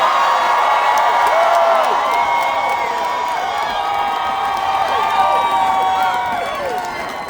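A large street march of about 20,000 people in Providence, a continuous loud roar of cheering and shouting voices with whoops rising above the steady crowd noise throughout.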